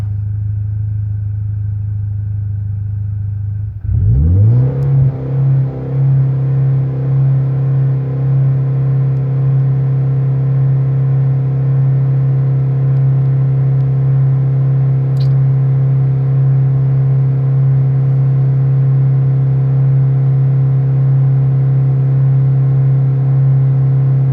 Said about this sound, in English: you'll get another blip of the throttle